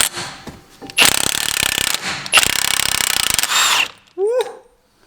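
A heavy-duty Milwaukee power tool works a car hub bolt during a lowering-spring fitting, giving loud rattling impact bursts in two long runs, with shorter noises before, between and after them.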